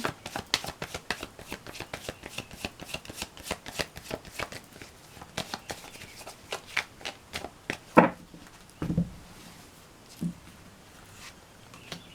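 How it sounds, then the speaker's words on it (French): Tarot cards shuffled by hand during a general reading, a rapid run of crisp riffling flicks for most of the span, then a few separate slaps and taps as the deck is set down. "Je vais remettre des cartes."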